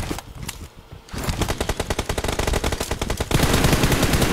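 Rapid automatic gunfire in PUBG Mobile during a 2v2 team deathmatch. A few isolated shots lead into a fast, rhythmic burst of close, loud rounds, followed by an even denser volley at the end.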